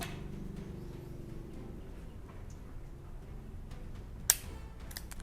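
A Taurus 942 revolver misfires when fired single action. One sharp, close metallic click of the hammer falling stands out against a low, quiet room hum, with no gunshot following.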